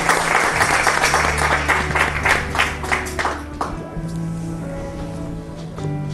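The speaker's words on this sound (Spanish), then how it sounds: "Un fuerte aplauso para ella." An audience gives sustained applause during a televised interview program, loud and dense for about four seconds before fading out, leaving a lingering musical tone and low background hum.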